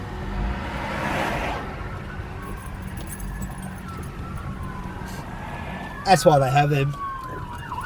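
A fire truck siren wails in the distance along a road, its rising and falling tone faint beneath steady traffic noise, with someone speaking briefly near the end.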